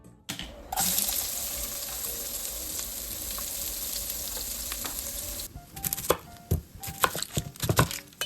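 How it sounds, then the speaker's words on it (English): Knife chopping onions on a kitchen board for mujadara, with running tap water and a sizzling pan steady underneath, then a burst of quick, irregular chopping knocks close by near the end. "if you don't have a mandolin, just use your knife. Yeah, chop chop."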